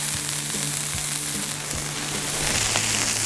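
Smash burger patties fry on a hot camp griddle, a loud, steady sizzle and crackle with a low hum underneath and occasional soft taps, no voices.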